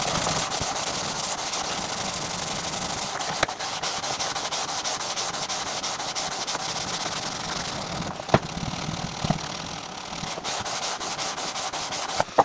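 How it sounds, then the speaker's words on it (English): Sandpaper rubbing steadily over a guitar fretboard during a repair, a continuous close scratchy rasp that runs without pause, broken only by a few small knocks. "once we sandpaper it down, smooth it all off"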